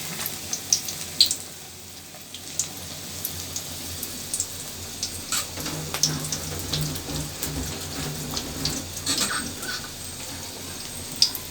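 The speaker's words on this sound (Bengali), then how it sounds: "বেসনটা মিশিয়ে আমি কড়াইয়ে দিয়ে দিলাম। আস্তে আস্তে পাকোড়াটা হচ্ছে।" Pakoras in besan batter frying in a kadai of oil, a quiet steady sizzle with scattered small crackles and pops.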